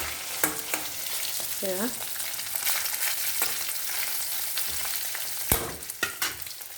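Fish fries in oil in a kadai with a busy crackling sizzle, broken by utensil clatters and knocks, and a voice briefly speaks.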